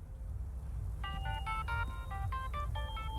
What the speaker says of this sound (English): I got a phone call.